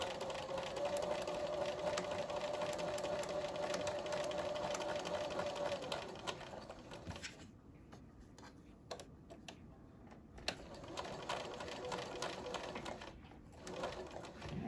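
A sewing machine stitching a quilt block seam runs in a steady fast whir for several seconds, pauses with faint ticks, then hums again, close and without talk.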